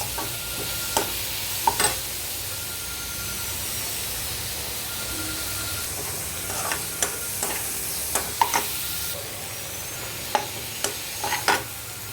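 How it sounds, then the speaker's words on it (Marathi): Onion and garlic fry in hot oil for a wild monsoon vegetable dish, giving a steady soft sizzle with scattered sharp crackles and pops near the pan, and no talking. "आणि लसूण पण मस्त फ्राय झाला आहे तेलामध्ये."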